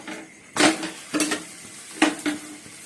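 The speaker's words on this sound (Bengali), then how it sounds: "আর এদিকে ডিম ভাজছি" An egg frying in a pan: a low, steady sizzle broken by three or four short scraping strokes of a utensil against the metal, close and fairly quiet.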